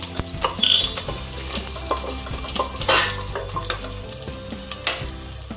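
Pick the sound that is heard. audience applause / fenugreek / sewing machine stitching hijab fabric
fenugreek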